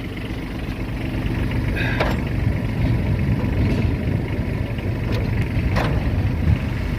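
A Kubota Aste-15 Japanese mini tractor, a glow-plug diesel, runs with its PTO at the lowest revs, giving a steady, close, low engine rumble that holds even and unbroken throughout.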